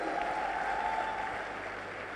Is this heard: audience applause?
yes